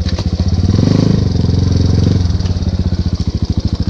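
A motorcycle ridden along a forest trail throbs loudly and close by, its engine pulsing in a steady low rhythm that swells as the revs rise around the middle and then settles back into a chugging beat.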